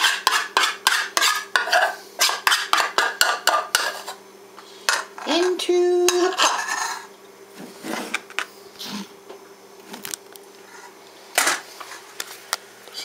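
A spoon clinks and scrapes in a quick, even rhythm against a pot as a flour and milk mixture for an apple and peach cream pie filling is stirred, followed by slower, scattered knocks and rustles.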